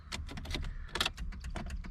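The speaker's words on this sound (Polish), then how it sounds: "Słyszycie? Ten przekaźnik." A fuel pump relay in a car that will not start, clicking in a quick irregular series of sharp ticks, close up and fairly quiet over a low background hum.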